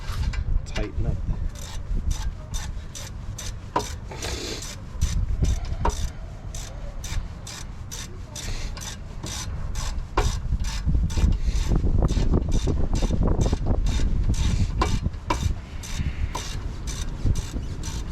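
A hand wrench snugs down the bolts on a front brake caliper of a 2012 Hyundai Sonata, a steady run of quick, close clicks and rubbing strokes repeating through the whole stretch with no talking.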